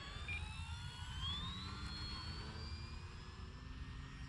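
A Durafly Tundra RC model airplane flies at a distance, its motor a faint, steady whine over a constant low rumble of wind.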